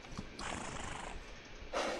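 A reddish-hued horse gives a loud, breathy neigh and snort up close, the whinny rising near the start and a sharp snort burst at the end, with no talk over it.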